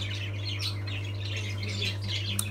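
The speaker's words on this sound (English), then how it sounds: "Oh, we have some nice looking parrots." Parrots in a pet store give repeated high, bright chirps and short calls over a steady low electrical hum, with no one talking.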